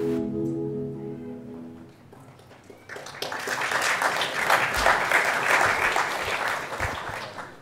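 Audience applause at a 50th anniversary celebration swells from about three seconds in, a dense, loud sustained clapping that follows a brief lull and fills the rest of the clip.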